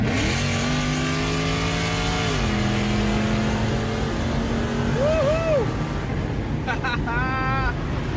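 A Mercedes E55 wagon and a nitrous-boosted Chevrolet Caprice race with engines revving hard, a steady high drone that drops in pitch at a shift, then short rising whines and chirps near the end.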